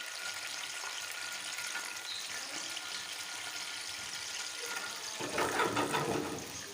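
Almonds fry in oil in a pan for Kabuli pulao, a soft steady sizzle that grows louder and busier near the end, with no talk.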